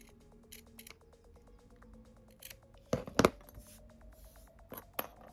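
Scissors snip through a fabric flower's centre strip, a run of quiet close cuts with a few louder sharp snips, heard alone in a quiet room.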